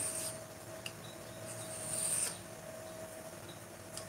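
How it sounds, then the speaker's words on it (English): A triangular file rasps burrs off cut metal during a chased roping demonstration, giving faint, soft scraping strokes over a steady low hum, with one slightly stronger stroke near the middle. "So I'm just removing the sharpness off of these little burrs that are getting cut up here with this triangular file."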